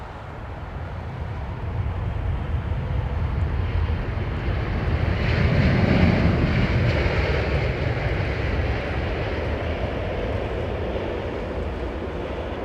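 A Qatar Airways Airbus A350-1000 in oneworld livery rumbles past at Heathrow, a broad loud engine roar swelling to a peak midway and easing off, with no talk.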